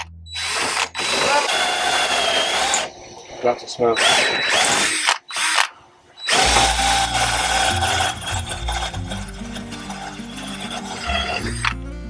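An old, worn power drill whines and grinds loudly in long bursts aboard a sailboat, stopping briefly a few times before roaring on again, with a voice speaking over it.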